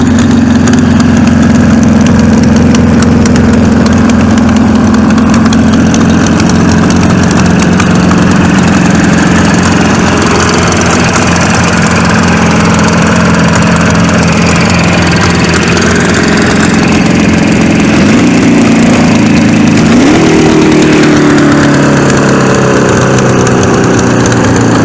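A seven-cylinder two-stroke motorcycle engine built from three Jawa 350cc engines idles loudly and continuously with a buzzing, rattling drone, its pitch rising slightly near the end as it's revved.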